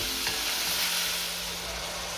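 Meat for chilli con carne frying in a pan, a continuous close sizzle with a brief utensil knock near the start and no talking.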